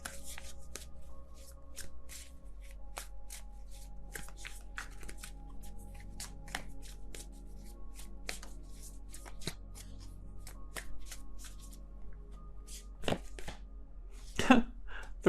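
Tarot cards being shuffled for a reading: a soft, continuous riffle of card edges with scattered light taps and flicks, close and fairly quiet over a low steady hum, with a slightly louder burst near the end.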